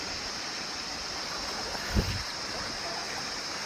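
A stream flowing near a waterfall with swimming pools, a faint, steady rushing hiss of water with one brief soft bump in the middle.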